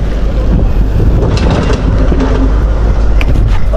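Loud motor boat engine droning close by in Agoncillo, Philippines, after Typhoon Kristine, mixed with buffeting wind noise against the microphone.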